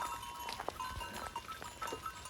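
Goats bleat faintly while out in a jungle in Nepal, with a few thin calls rising over quiet outdoor background noise and no talking.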